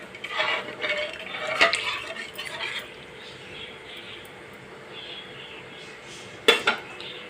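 Water poured into well-cooked spice masala in a pan, with a few sharp metal clinks of a utensil, a soft liquid rush and a quiet hiss between, close up.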